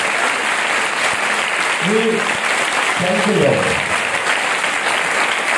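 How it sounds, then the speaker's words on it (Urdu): A church congregation claps with both hands raised, a steady dense patter filling the room, while a voice offers thanks over the top. "دونوں ہاتھ اوپر کر کے تالی چاہیے گا"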